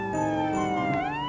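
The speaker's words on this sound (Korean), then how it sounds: "사이렌을 울리며 전조등을 쏘아대는 경찰차" A police car siren wails continuously in a steady, loud, pitch-sliding tone, sweeping up and down against a dense background with no voices.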